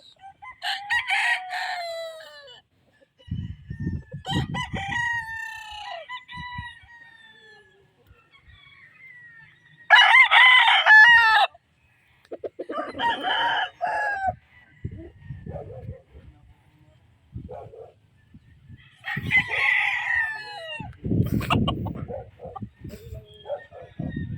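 Gamefowl roosters on a game farm crow several times, some near and some farther off, with clucks and low rumbling sounds between the calls.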